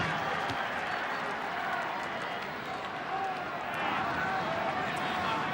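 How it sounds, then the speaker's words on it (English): A large crowd at a 1991 rugby league match between North Sydney Bears and Western Suburbs Magpies at North Sydney applauding, a broad sustained roar of clapping and cheering under a commentator's voice. "Plenty of West supporters amongst this great crowd here at North Sydney"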